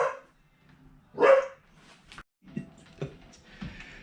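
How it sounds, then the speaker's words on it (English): A pet dog barks at a neighbor next door, giving a few sharp barks at moderate distance with a louder burst early on and several shorter yaps after a pause, in an indoor workshop during a build project. "My dog is just like yelling at this dude that just lives next door."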